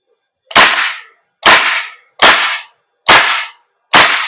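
A Knights Armament SR16 E3 Mod2 CQB airsoft gas blowback rifle fires five semi-automatic shots, each a sharp loud crack with a short hissing tail, spaced evenly under a second apart, close by.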